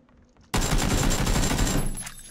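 Shotgun fire in a first-person shooter video game, a sudden loud blast followed by a dense, sustained burst of gunfire and rattling that fades toward the end.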